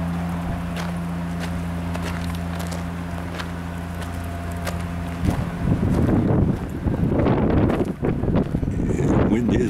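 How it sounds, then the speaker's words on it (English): Strong desert wind at an RV park in Bullhead City, Arizona buffets the microphone in heavy, rumbling gusts that swell and surge after a steadier hum, loud and close. "Yeah, the wind is whipping."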